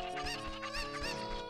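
Several Ocarina of Time game chickens cluck in quick repeated bursts over steady background music, close and moderately loud.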